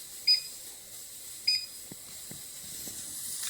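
Two short electronic beeps from a kitchen timer being started during stovetop pressure canning, spaced about a second apart over a steady steam hiss, with a few soft clicks afterward.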